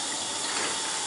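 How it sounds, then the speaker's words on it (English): Tap water runs steadily into a sink while darkroom tongs are rinsed during black-and-white paper processing setup, a continuous close splashing gush with no voices. "Rinse off the tongs,"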